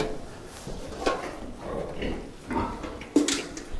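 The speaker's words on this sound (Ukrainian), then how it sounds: "Це дві свинки." Two piglets on a farm give low, snuffling grunts, several short bursts spread unevenly and heard close with no talk over them.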